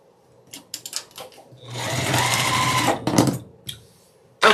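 Sewing machine stitching fabric for quilt half square triangles in a sustained whirring run, with short bursts of clicks and stops before and after, close and clear.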